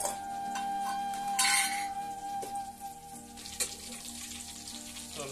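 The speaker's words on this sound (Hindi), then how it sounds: "लहसुन पक रहा है, अभी मिर्ची भी डाल दी है।" Garlic and chili frying in a pan for dal give a soft, steady sizzle with a few light clinks of a utensil against the pan.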